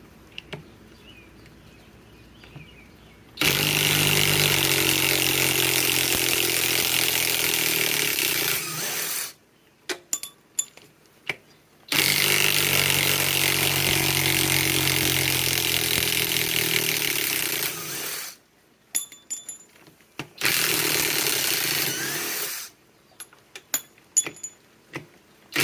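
A Flex FX1451 mid-torque impact wrench on a 3.5 stacked lithium battery hammers out four 6-inch lag screws in three long, loud bursts of several seconds each, separated by short gaps with clinks and handling noises.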